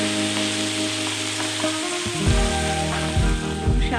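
Spinach tossed into a pan of sautéed onions, a loud sizzle and frying crackle swelling as the leaves hit the hot oil, with stirring scrapes following.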